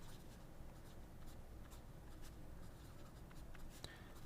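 A Schmidt broad fountain pen nib in a Bennu pen scratches softly across paper in short strokes, faint and close, with a quiet tap near the end.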